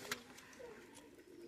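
Pakistani high flyer pigeons, a white-beaked pair, coo softly with faint low murmurs against a quiet background, with no talking.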